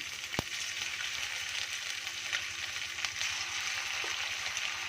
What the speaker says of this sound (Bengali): আবার এইভাবে ভেজে নিচ্ছি